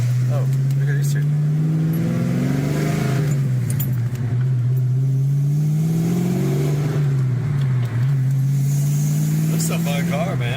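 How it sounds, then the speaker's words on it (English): A car engine revs and drones through its exhaust, a loud, steady note that rises and falls in pitch several times, with people talking over it. "There's no better sound than this exhaust here."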